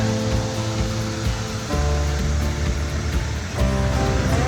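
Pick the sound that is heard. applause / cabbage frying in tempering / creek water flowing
creek water flowing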